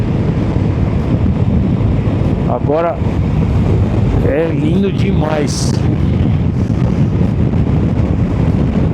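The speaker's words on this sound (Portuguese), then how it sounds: "O vento tá bem forte." Strong wind roars without a break across a high-altitude mountain pass at Paso San Francisco on a heavy motorcycle trip, buffeting the microphone loudly while someone speaks briefly over it.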